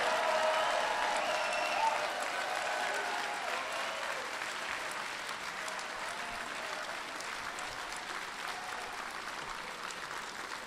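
Applause from the crowd at a Libertarian Party convention for presidential nominee Governor Gary Johnson, a continuous wash of clapping that begins strong and gradually thins and softens.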